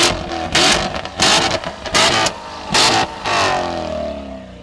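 A Corvette C7 Stingray engine is revved repeatedly at a car meet, five or six sharp, loud bursts of throttle with short drops between, the last rev trailing off into a fading idle.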